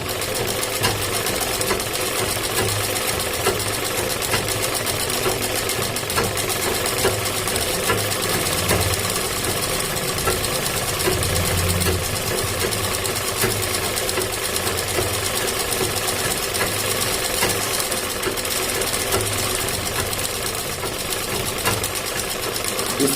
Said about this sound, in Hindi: ये इस तरह से आपको सिलाई चला लेनी है किनार की